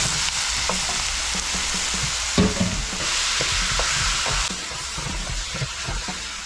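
Chicken pieces frying with onions in a hot pan, a steady close sizzle with scraping and stirring clatter from a utensil throughout, no voices.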